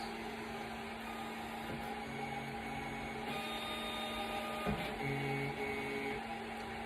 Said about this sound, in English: it basically now auto homes the machine at the back. You guys might be hearing that noise.